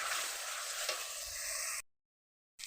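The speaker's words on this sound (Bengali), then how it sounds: "আলুটাকে ওর সঙ্গে ভালো করে ভেজে নেব।" Boiled potatoes fried with spices in hot oil for a potato and small rohu fish curry, giving a steady close sizzle with stirring scrapes for about two seconds before cutting to silence.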